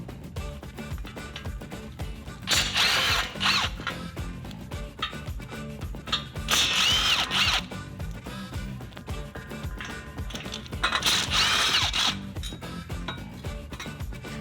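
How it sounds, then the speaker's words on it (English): Three 8 mm dust shield bolts come off a Ford F150 with a tool, heard up close as three short bursts of rasping turning, each separated by a few seconds of quieter handling. "We are also going to remove the dust shield. There's 3 8 millimeter bolts around the outside."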